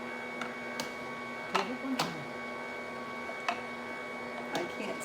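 A FRESH TECH sauce maker machine runs quietly in a kitchen as a faint steady hum, broken by occasional soft clicks and light knocks.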